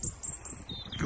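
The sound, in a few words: birdsong beside the flooded River Coln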